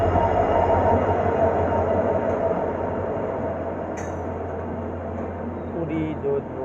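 A diesel locomotive hauling the Jodhpur Sabarmati SF Express rumbles steadily and close by, a dense continuous roar of engine and rolling wagons that eases slightly midway.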